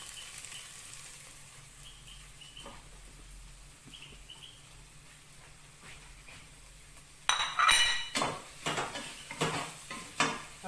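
Button mushrooms go into a pan where onion and garlic are browning. A quiet, low simmer gives way to a sudden loud sizzle, followed by repeated clattering bursts as the pan is stirred.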